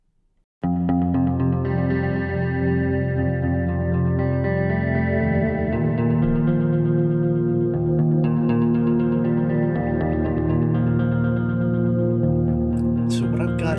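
A sustained, richly layered guitar tone drenched in chorus, echo and reverb from plugin effects including StereoSavage, playing steadily and loud throughout with no one speaking.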